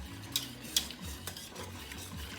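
A spoon stirring heavy whipping cream into a flour roux in a pot, with soft scraping strokes, a couple of sharp clinks of utensil on metal, and a faint sizzle underneath.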